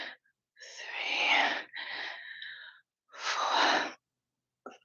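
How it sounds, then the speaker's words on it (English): Heavy, rasping breaths after a set of shoulder exercises in a workout, three long drawn-out exhales close to the microphone, separated by short pauses. "Deep breaths."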